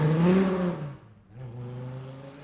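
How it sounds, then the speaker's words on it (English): Race car engine at an open road race in Halsey, Nebraska, a loud rumbling rev that fades briefly and then swells back into a steady drone, heard alone. "the vehicle's percolating, so you know it's going to make some noise here in a second"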